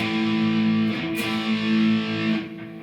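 A few thick, distorted electric guitar power chords ring out loud and sustained, one shifting to the next, with no voices over them.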